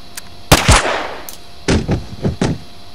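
Gunfire in the Dead Frontier video game: a loud, near burst of shots, a double crack followed by a few quicker reports with short decays, with no talk in between.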